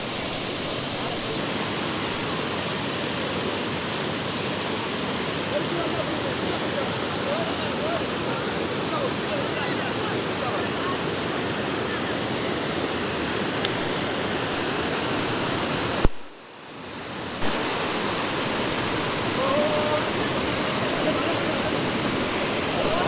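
Floodwater rushes through a swollen stream in Vavuniya, Sri Lanka, a loud, steady roar that fills the whole clip, briefly cut out for about a second near the end.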